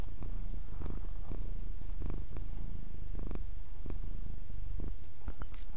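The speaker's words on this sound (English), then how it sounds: "Did you hear that purring?" Close, continuous low cat purring with a rumbling rhythm, punctuated by a few soft clicks and rustles.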